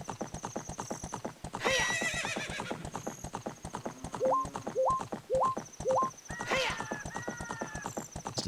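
Horse hooves clip-clop in a steady galloping rhythm inside Ocarina of Time, with loud whinnying neighs breaking in twice over a looping background melody with short rising chime notes.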